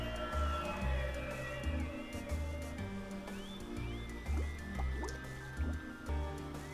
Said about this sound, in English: What kind of bubbles are those?